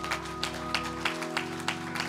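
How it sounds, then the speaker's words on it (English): A church congregation claps together in a steady rhythm, with sharp, evenly spaced claps over sustained organ-like tones at a moderate, slightly distant level. "By the clapping of our hands, we bless you again"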